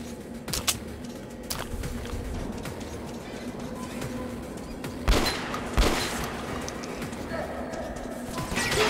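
Shotgun blasts in the video game Metro: Last Light Redux, with a couple of sharp loud bursts over a constant noisy game soundscape while someone talks.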